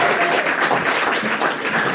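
A crowd at an evening book launch applauds Kevin Young, a steady, dense wash of clapping from many hands heard fairly close with no talk over it.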